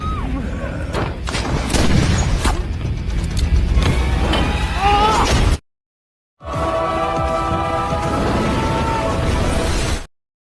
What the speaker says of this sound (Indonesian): Omar Japar yang sudah tutung menembaki Razbir.